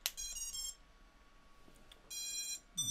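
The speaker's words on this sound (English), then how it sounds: "Do the good old beep bop boops." Walksnail HD drone system gives a series of electronic startup beep tones after its battery is plugged in, short bright bursts at the start and again near the end with quiet room tone between.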